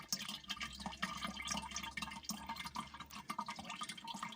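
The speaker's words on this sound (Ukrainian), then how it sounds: "сік стікає в відро" Grape juice for homemade wine drains into a bucket in a steady, quiet trickle, with small drips and gurgles spread evenly throughout.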